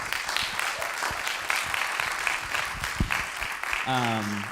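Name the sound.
audience applause for authors at book festival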